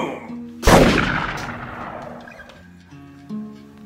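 A single loud, close gunshot with a sharp crack and a long rumbling decay, set against a quiet musical background.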